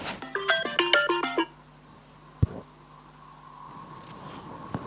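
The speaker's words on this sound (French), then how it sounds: "Attendez les gars, on m'appelle." An incoming-call ringtone plays a quick melodic pattern of bright electronic notes for about a second and a half, then stops, followed by a single sharp knock and quiet room noise.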